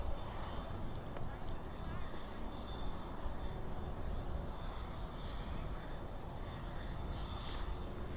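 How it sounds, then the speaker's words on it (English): An Airbus A320 jet at Dallas/Fort Worth airport at night makes a steady, distant engine roar. The sound holds evenly for the whole stretch, with radio chatter and talk over it. "Right there, that is a little A320."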